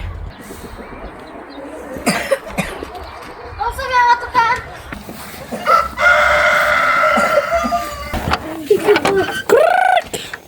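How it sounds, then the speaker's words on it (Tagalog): Chickens cluck and a rooster crows loudly near the end, with children's voices and chatter mixed in around the birds. "Yung mga manok."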